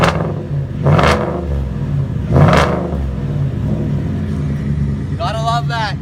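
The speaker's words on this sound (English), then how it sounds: "that beautiful Flowmaster exhaust." A 2018 Ford F-150 XLT pickup with an aftermarket Flowmaster exhaust revs hard twice, the exhaust roaring up and dropping back to a deep idle rumble; a brief voice or chirp comes at the end.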